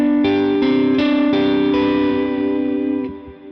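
Distorted electric guitar chords ring through a Line 6 Helix Dynamic Hall reverb with a high mix and short predelay, several struck chords blooming into a lush hall tail that fades at the end.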